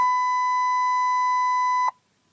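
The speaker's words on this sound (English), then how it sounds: "you just press it, and the radio will beep" A base station radio gives one steady electronic beep when switched on, a pure tone lasting nearly two seconds before cutting off sharply into quiet.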